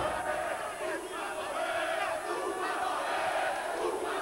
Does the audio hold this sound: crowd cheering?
yes